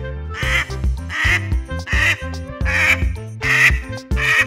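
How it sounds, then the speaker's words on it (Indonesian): A plump yellow mother duck quacks loudly and repeatedly in a steady rhythm, about six close, harsh quacks with no talking. "ada hewan yang sangat gemuk sekali, berwarna kuning, namanya indukan bebek"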